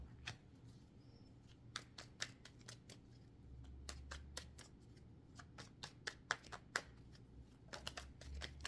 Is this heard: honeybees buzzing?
no